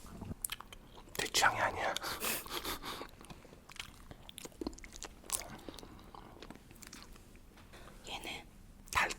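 Gummy jelly candies, including grape-shaped kyoho, planet and eyeball gummies, are bitten and chewed close to the mic in soft, wet, intermittent bursts, with a brief spoken remark over the munching.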